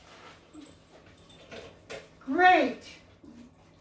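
A dog whimpers briefly during a mat-training session, a rising whiny cry near the middle, with a person giving short praise words before and after.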